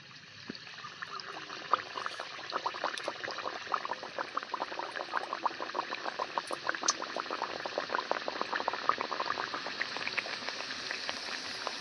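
Puris deep-fry in moderately hot oil, producing a dense, steady bubbling crackle with rapid fine pops that builds slightly and stays continuous and close, with no speech.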